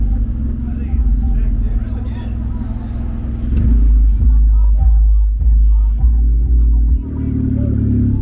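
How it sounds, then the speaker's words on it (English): A Daihatsu Hijet kei truck imported from Japan with a 3-cylinder engine and motorcycle muffler, a loud close idling rumble with revs rising and falling, while people talk nearby throughout. "It's a Daihatsu Hijet, imported from Japan."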